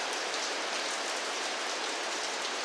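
Rain falling at the Marble Mountains in Da Nang, Vietnam, a dense, even hiss of drops striking surfaces close by, continuous and with no voices.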